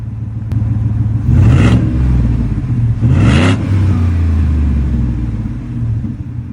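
A Ford F-150 STX Rocky Ridge V8 with side-exit exhaust blips its throttle twice, each rev a short, rising roar that drops back to a deep, steady idle burble.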